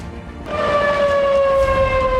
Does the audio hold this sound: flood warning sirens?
yes